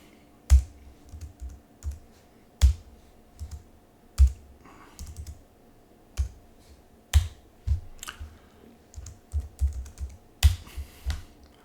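Keys clack on a computer keyboard as an SSH login is typed, in short bursts of crisp taps with sharper, louder strokes landing every couple of seconds and no talking.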